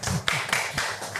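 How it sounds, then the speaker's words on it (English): Clapping from a coffee-event audience, a few loose uneven claps spread across a short burst at moderate level, with no talk over it. "Clapping to you."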